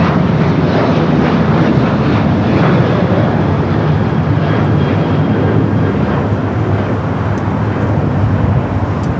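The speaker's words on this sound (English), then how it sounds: "we got another American flight now rolling down at 25 right" An American Airlines jet rolls down runway 25 right at LAX, its engines a loud, steady broadband roar that holds constant throughout without a break.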